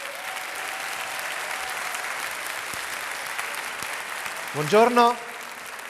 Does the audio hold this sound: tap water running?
no